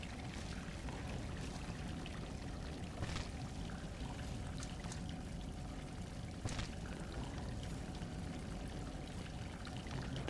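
Water flows steadily in the Salt and Sanctuary video game, a continuous, fairly loud rushing and pouring wash that fills the scene with no one speaking.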